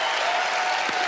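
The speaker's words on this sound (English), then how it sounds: "Give her a round of applause." A studio audience on a magic show breaks into a round of applause, a dense, loud, continuous wash of clapping with no speech over it.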